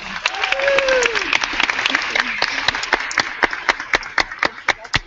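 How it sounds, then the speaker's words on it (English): Applause rises from an education summit audience to welcome a keynote speaker, steady clapping that thins into distinct individual claps toward the end, with brief voices over the start. "Everyone, a round of applause for Laura Nickerson."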